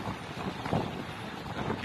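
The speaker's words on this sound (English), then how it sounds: "It's just windy." Steady wind buffeting a microphone on a New York street, a broad rumbling roar with gusty swells throughout, loud and close, no voices.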